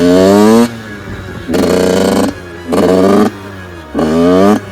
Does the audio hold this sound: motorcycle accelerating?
yes